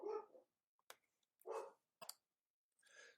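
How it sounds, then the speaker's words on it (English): A dog gives a handful of separate sharp barks, close and clear, with brief clicks between them and near silence otherwise. "the dog was barking"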